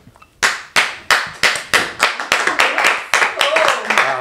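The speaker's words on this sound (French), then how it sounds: "Ah, on n'a pas le choix d'applaudir." A small group claps in a series of sharp, separate bursts that start and stop, growing quicker toward the end, loud and close, with voices talking over the last part.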